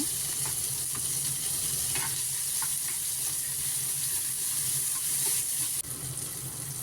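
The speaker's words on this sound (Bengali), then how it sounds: "তারপরে দিলাম কুচনো পেঁয়াজ, দিয়ে ভালো করে পেঁয়াজটাকে ভেজে নেব" Chopped onions frying in a pan for an egg curry, a soft steady hiss with scattered clicks of stirring and a small drop in level near the end; no voices.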